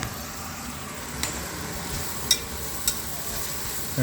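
One onion and two leeks cook in a soup pot for chicken noodle soup, giving a steady soft sizzle with a few faint clicks and clinks of a utensil, no talking.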